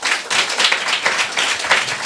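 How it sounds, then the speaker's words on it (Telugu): A church congregation at a Sunday service claps together in a brisk, rhythmic burst of many hands, close and lively, with no speech over it. "చప్పట్లు కొడతారా?"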